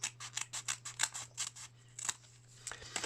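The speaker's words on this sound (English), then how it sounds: "you get your scissors and we cut along here like this" Quiet, rhythmic snips of scissors cutting paper, a quick series of crisp cuts with a brief pause, close by.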